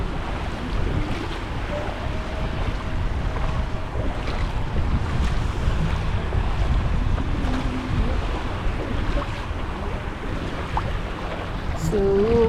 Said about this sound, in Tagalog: Yung alon paganon, papunta dun. Tapos meron din papunta dito.